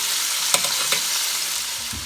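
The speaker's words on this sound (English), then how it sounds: "Just a quick sear we want. 30 seconds on each side." Shrimp sear in a hot pan, a steady bright sizzle with a couple of sharp clicks of tongs turning them and a low thud near the end, no voices.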